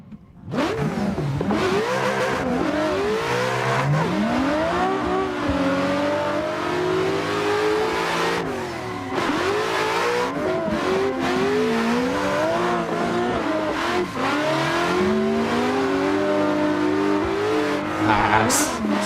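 A drifting car's engine in the Assetto Corsa racing game revs hard and continuously, the pitch swooping up and down through gear changes, with a sharp tire squeal near the end.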